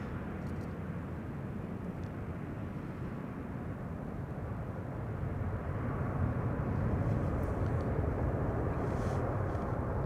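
A KLM Asia airliner arriving at Amsterdam Schiphol Airport, a deep, steady jet engine roar that swells gradually louder as the plane draws close, heard alone without talk.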